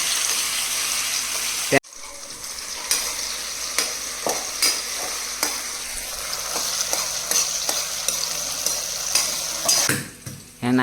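Loud, crackling sizzle of tomatoes hitting hot oil after a sudden drop-in, with repeated spatula clatters and stirring over the steady frying noise.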